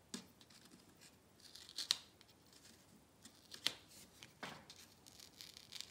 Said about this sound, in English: Now we get to take the tape off.